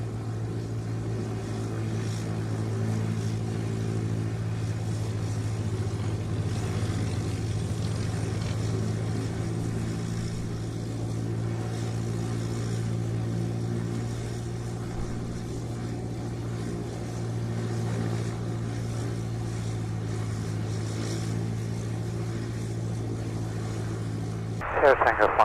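Spitfire fighter flying in the airfield circuit, a steady loud propeller-engine drone held throughout, with a sharp louder burst right at the end.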